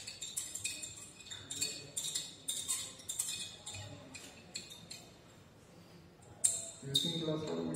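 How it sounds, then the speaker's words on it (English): A glass rod clinks against a glass flask while stirring a mixture with distilled water in a chemistry lab, repeated light rhythmic ticks and chimes, close and fairly quiet, with faint background noise. "Shake fully and using a glass rod."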